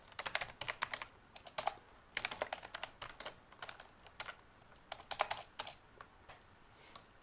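Typing on a computer keyboard: quiet, close clusters of quick key clicks in short bursts with brief pauses between them, no voices.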